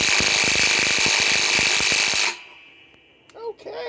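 A Flex FX1451 mid-torque impact wrench on a 6 Ah stacked lithium battery hammers loudly and rapidly for about two seconds, then stops abruptly, and a brief voice follows.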